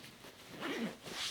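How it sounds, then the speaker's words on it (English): A compression zipper being pulled shut on a fabric packing cube, two close, quiet rasping zip strokes over a little over a second, the second brighter and ending sharply. "Then we can go ahead and compress this down using the compression zipper."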